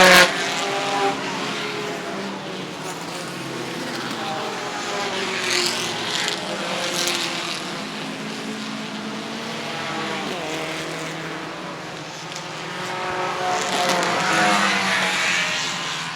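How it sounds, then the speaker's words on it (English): Race cars under 2.0 litres, led by a Datsun 510, roaring away from a green-flag start at the Pittsburgh Vintage Grand Prix, a steady wash of engine noise with rising and falling passes, moderately distant. "Joe Maloy, your pole sitter from Bridgeville, in that Datsun 510 that takes the lead going into the first turn"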